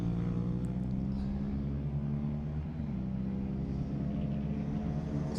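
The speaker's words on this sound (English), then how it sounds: "As they go by us, distinctive sound effects from those carts then." A steady, buzzing engine drone from small-engined rallycross cars passing at Mondello Park, continuous and fairly loud throughout, with a low rumbling hum and no clear rise or fade.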